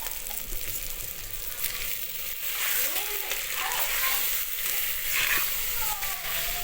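Onions frying and being stirred in a pan over a wood-fired stove, a steady close sizzle with scraping stirs; voices are faintly audible in the background.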